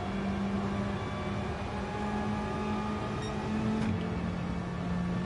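A race car's engine drones at a steady, low hum with a faint whine layered over it, continuous and unchanging in loudness, during engine trouble in the Gran Turismo 7 racing game; no one speaks.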